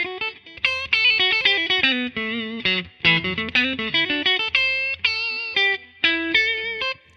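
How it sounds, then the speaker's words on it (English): Gibson 2014 SG Standard electric guitar played clean through its coil-tapped neck pickup, a run of plucked notes and chords with a bright, effects-tinged tone, close and alone with no talking. "Let's coil tap it and see what we got there."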